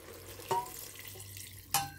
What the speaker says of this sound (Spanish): Y ya con el vino reducido, lo riego con el agua.